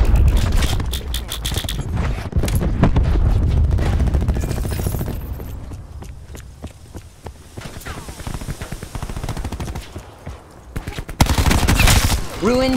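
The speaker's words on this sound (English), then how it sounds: "Cluster grenade" Cluster grenade blasts and gunfire in the Black Ops 4 beta: sharp, rapid bursts of detonations and shots crowd the first half, thin into scattered cracks, then a loud burst returns near the end.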